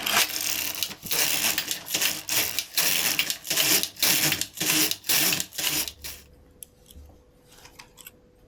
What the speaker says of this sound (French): je tricote les rangs en fonction de ce que le modèle me demande